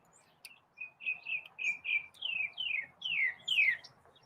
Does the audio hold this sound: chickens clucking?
no